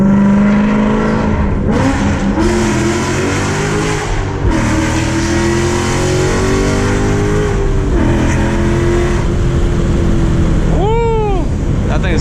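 A full-bolt-on Ford Mustang GT V8 accelerates hard through a short tunnel-like underpass, its engine roaring loud and close, with a couple of quick gear shifts and a rising rev sweep near the end.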